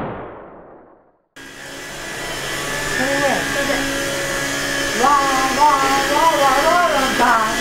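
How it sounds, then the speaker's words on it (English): A vacuum cleaner starts up after a brief quiet gap and runs with a steady droning whine that lasts to the end, with a few sliding tonal sweeps near the end. "I'm supposed to be vacuum cleaning, aren't I?"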